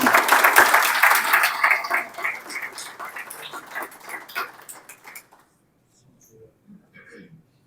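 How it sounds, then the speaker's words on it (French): Applause for Yvan from an audience gathered at a book launch, a lively burst of clapping mixed with voices that gradually thins out and dies into near silence, with a few faint sounds at the end. "on applaudit Yvan."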